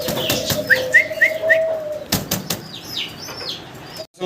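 A pair of Indian Lotan pigeons flap their wings in several quick bursts, close by, alongside a few short chirping calls, with a steady hum underneath and no talk.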